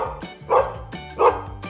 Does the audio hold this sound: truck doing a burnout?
no